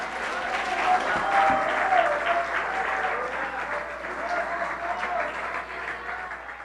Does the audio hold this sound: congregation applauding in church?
yes